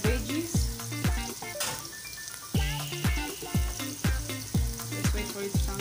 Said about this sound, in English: Veggies, fry them.